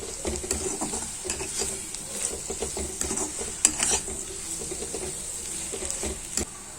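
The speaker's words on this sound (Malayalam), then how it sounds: "മുളക് പൊടി, മഞ്ഞൾപ്പൊടി, പാകത്തിന് ഉപ്പ്. ഇവയെല്ലാം നന്നായിട്ടൊന്ന് വഴറ്റിയെടുക്കാം." Chili powder, turmeric and salt being stirred and sautéed in a pan for a clam meat fry, with a steady soft sizzle and scraping spoon strokes against the pan, close and moderately loud, no talk.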